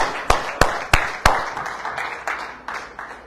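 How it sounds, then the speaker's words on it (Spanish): A congregation claps for the King in a church service, a run of about a dozen sharp, loud hand claps that thin and soften as they go, with no voices over them. "Aplauda al Rey, póngase contento."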